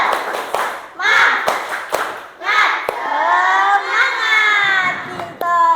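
A group of children does the 'tepuk semangat' spirit clap, beating out sharp, patterned claps and then chanting loudly together. An adult's voice leads them.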